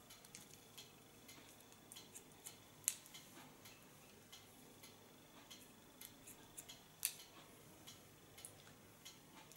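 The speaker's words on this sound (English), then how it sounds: "but I want to show you slicing, so that's why I don't close my scissor." Scissors slice-cutting hair produce faint, soft snipping and ticks scattered irregularly, with a couple of sharper clicks, close up over a quiet background.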